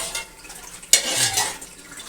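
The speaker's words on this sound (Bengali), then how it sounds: "নুন চিনির জলটা হাঁড়ির মধ্যে ভালো করে মিশিয়ে দিতে হবে।" Salt and sugar water being stirred in a pot, a brief metallic clink followed by a soft swishing of liquid.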